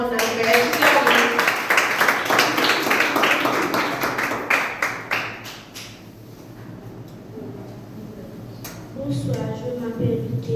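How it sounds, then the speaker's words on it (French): An audience at a church singing event claps to welcome Sister Ruth, rhythmic hand claps that fade after a few seconds while voices talk over them, then clapping picks up again briefly. "Sous vos applaudissements, on appelle sœur Ruth."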